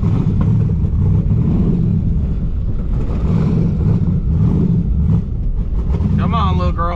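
A twin-turbo Mustang's engine running, a steady low rumble with a few slight swells throughout, and a person talking over it near the end.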